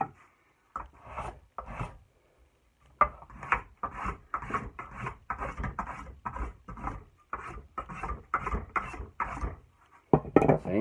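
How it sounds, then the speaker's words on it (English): A Nicholson file rasps along a wooden axe handle in about fifteen close, rhythmic scraping strokes, following a short pause near the start. "I'm going to take my rasp, or my file, Nicholson file, and smooth it out the whole way down there"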